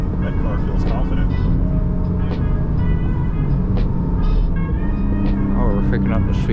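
A Porsche car accelerates on a driving-course track, its engine a steady, close drone rising in pitch, heard under ongoing conversation between people inside the car.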